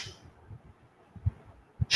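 Sharp, forceful puffs of air pushed out through the nose during a yoga nasal cleansing exercise, one at the start and one at the end, with soft breathy thumps between.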